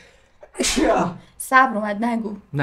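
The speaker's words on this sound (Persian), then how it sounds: "خب من عطسم داره بگیره" A single loud, breathy sneeze bursts out close to the microphone, then a person starts talking right after it.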